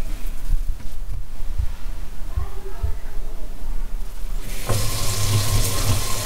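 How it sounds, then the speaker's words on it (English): Hot water runs from a sink tap during installation of an APEC reverse-osmosis water filter system, a steady hiss that turns suddenly louder and fuller near the end as flow increases. "So you're gonna let the water run like this for a little while so that the pipes start getting hot."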